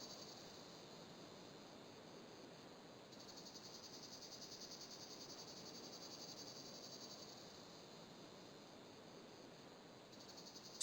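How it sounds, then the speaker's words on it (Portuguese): Steady cicada drone in the point-and-click game Broken Sword, a continuous buzzing that holds unbroken throughout with a faint high whine that shifts partway, otherwise quiet ambience with no talking. "Só o som da cigarra, mano."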